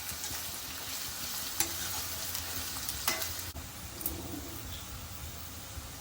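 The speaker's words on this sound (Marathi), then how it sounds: "चांगलं शिजवून घेते मी कांदा" Onion softening in hot oil for kande pohe, a steady broadband sizzle that runs the whole time, with a few brief spatula scrapes and taps against the pan.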